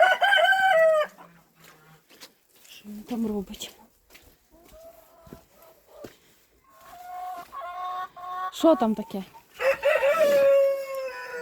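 Loud, harsh honking calls from several geese nearby, coming in bursts with quieter gaps, while a person speaks briefly among them.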